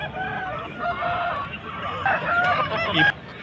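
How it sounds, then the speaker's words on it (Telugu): A one-year-old rooster at the Nallapadu village poultry market gives repeated clucking calls that rise into short crowing bursts near the end, close and fairly loud over a busy background murmur. "సంవత్సరం వయసు కలిగినటువంటి కోడిపుంజు"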